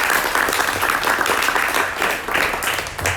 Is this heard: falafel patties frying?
no